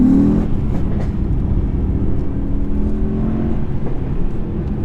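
A 2019 Mercedes E63S accelerates along a B road, heard from the cabin as a loud, continuous low engine drone with a rising tone early on, steady and close throughout with no talking.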